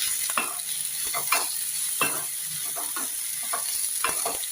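Okra (ladies finger) frying with salt in a pan, for a Udupi-style buttermilk curry: a steady sizzle broken by repeated scraping stir strokes every half-second or so, close by, with no talking.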